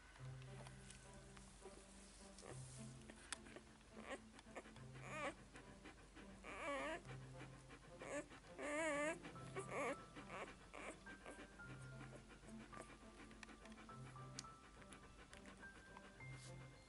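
Quick, soft panting from a newborn Borzoi puppy repeats close by, with faint whimpering squeaks and light rustling in a quiet room.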